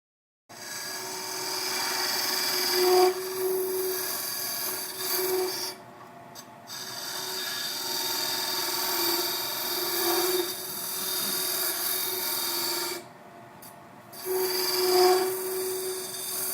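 A wood lathe spins a goblet while a homemade ring tool, made from an old file, cuts captive rings, giving a steady close scraping rasp over the motor's hum, with brief lulls and pulsing rises as the tool bites; no talking.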